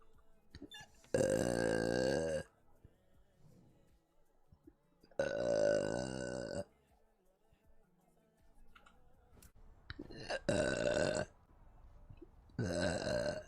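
A person burps loudly four times, each burp long and drawn out, with gaps between them and faint background noise.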